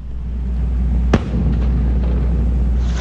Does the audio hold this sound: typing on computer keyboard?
no